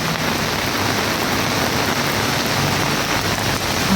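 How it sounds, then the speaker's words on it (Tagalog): Heavy rain pours steadily outdoors, a loud dense hiss of drops on surfaces that stays even throughout. "Grabe lakas talaga ng ulan."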